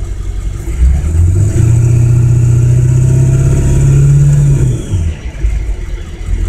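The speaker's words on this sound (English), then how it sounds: "Now it doesn't happen, but the engine sort of struggles." A car engine revs and struggles, its steady mid-pitched drone rising and holding unevenly for several seconds before dropping back toward idle, loud and close with no voices.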